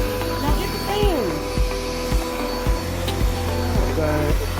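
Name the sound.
vacuum cleaner running in a living room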